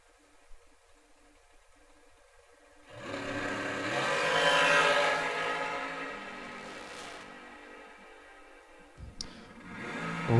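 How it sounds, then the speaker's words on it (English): A dragster, an American chassis car, revs its throttle at the top of a drag strip, a broad engine roar building after a quiet start, swelling loud mid-clip then fading, with a sharp burst near the end. "Revving the throttle up at the top of the racetrack."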